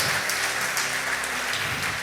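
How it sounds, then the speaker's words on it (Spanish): A church congregation applauds steadily for the Lord, a dense wash of many hands clapping together at a constant, fairly loud level with no voices standing out. "démosle un aplauso al Señor"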